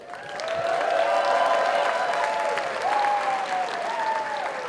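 A crowd at a FIRST robotics competition's opening ceremony in Mount Vernon claps and cheers for the teams, a broad wash of applause with sustained whoops and yells rising and falling over it.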